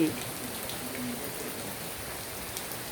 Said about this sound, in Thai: ฝนตกแต่เช้าเลยคุณเก้าโมงกว่า